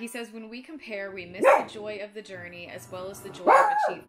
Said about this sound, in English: Sorry for the dog interruption.